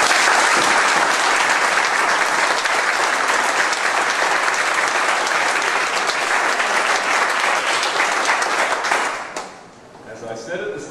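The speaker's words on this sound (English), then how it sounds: "please applaud me." A debate audience on the value of replica furniture design breaks into loud, sustained applause, dense clapping from a large crowd that drops away abruptly near the end, with a voice emerging afterward.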